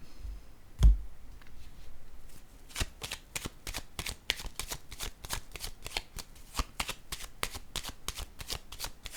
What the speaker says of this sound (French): Je vais déposer une carte sur le jeu.